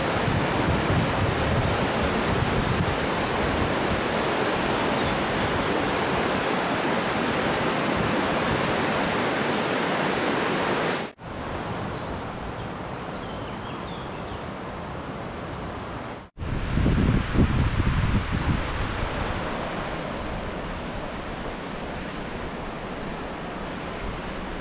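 Fast, high-volume Sorgue river rushing at Fontaine de Vaucluse, a loud, close, unbroken roar of whitewater filling the scene, briefly cut off twice partway through.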